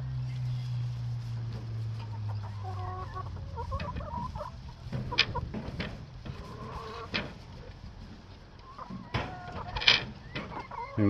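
Hens cluck and murmur near their nesting boxes, with scattered clucks and squawks at close range, a steady low hum early on and a person speaking at times.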